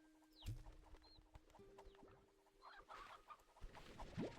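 A rooster clucks in the Slime Rancher 2 video game, with a few short, separate clucks and squawks over quiet ambient game sound and faint background tones.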